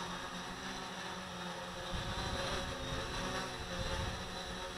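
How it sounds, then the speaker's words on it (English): Strong wind buffeting a hat-mounted camera outdoors, a constant loud roar and rumble with gusty low thumps and no voices. "Wind is really bad now."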